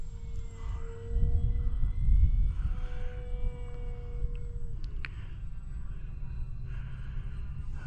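Electric motors of an FF-Stingray RC model plane with front-mounted motors running at about quarter throttle, a fairly quiet steady hum with a faint tonal whine over low rumble, briefly louder early on.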